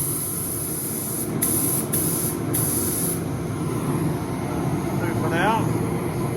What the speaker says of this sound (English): Let's give it a quick dust coat.